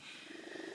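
A house cat purring softly and steadily up close in a quiet room, a low continuous rumble with no talking.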